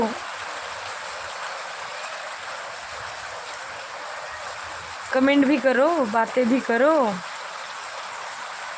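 Steady broadband hiss of heavy monsoon-style downpour in Pune in early summer (May), pouring continuously, with a voice singing or speaking briefly over it near the end.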